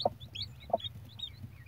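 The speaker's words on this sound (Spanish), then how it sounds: "este es el pollito que ayudé a nacer ayer" A weak, premature newborn chick gives a few soft, high peeps, faint and close, with short gaps between them over a low background hum.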